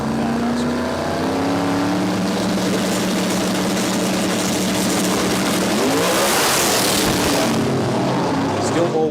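A turbocharged 7-litre Ford Mustang drag car accelerates hard down the strip, a loud, continuous engine roar with rising harmonic sweeps near the end.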